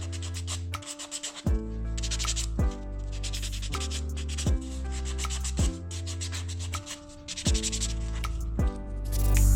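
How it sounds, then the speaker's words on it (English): A pink buffing block rubbed over acrylic nails, giving rhythmic back-and-forth scratchy rasping strokes, close and fairly loud, repeated steadily. "So I'm just going to go over these with a pink buffing block."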